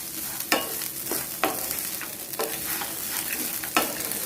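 Grated coconut lightly roasting in a hot pan for peanut chutney, a soft steady sizzle broken by several scraping strokes of a spatula at irregular intervals, close up and alone.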